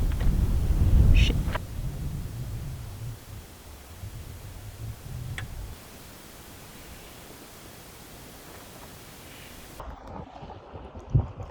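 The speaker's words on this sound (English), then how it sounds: "this is the second time that just this random burst of wind has taken it down" Random gust of wind buffeting a microphone at a winter desert campsite, a loud low rumble at the start that eases into lighter blustery noise, followed by quieter stretches and a faint knock near the end.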